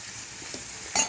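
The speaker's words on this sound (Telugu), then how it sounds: "వేసేసి ఇలా కలిపేసుకోవాలండి. కింద నుంచి పైకి, పైనుంచి కిందకి మొత్తం ఆ పోపు అంతా దీనికి పట్టేయాలి" Mixed vegetables are turned through a hot oil tempering in a pan, giving a faint, brief sizzle with a light scrape of stirring near the end.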